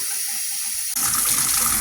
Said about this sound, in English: Once I get a nice steady flow of water, I'll shut that and go ahead and disconnect the garden hose now.